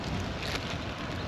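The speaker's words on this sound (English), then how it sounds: "I'm sorry about the wind, it's a little windy." Wind gusting by a river bridge at a fishing spot, a steady breathy rush buffeting the microphone, moderately loud and continuous for a moment, no talk.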